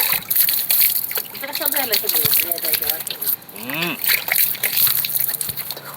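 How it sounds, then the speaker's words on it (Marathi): Water splashes and sloshes close up in repeated handfuls as a person washes gram flour paste off their face with cold water, talking over the splashing. "आता धुतो जरा चेहरा."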